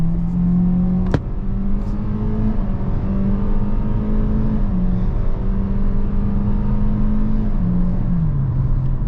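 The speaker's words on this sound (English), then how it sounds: "let's go ahead and put this thing in sport mode and do an acceleration." A 2024 Hyundai Kona SEL with a naturally aspirated 2.0-litre four-cylinder and IVT accelerates hard in sport mode, its engine drone steady and loud from inside the cabin, rising slowly in pitch with a brief click near the start.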